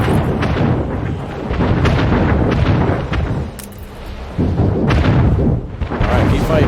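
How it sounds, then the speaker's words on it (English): Continuous heavy booming explosions from naval ship combat in Anno 1800, rolling one into another, loud and dense, with a short quieter dip midway. "listen to those explosions"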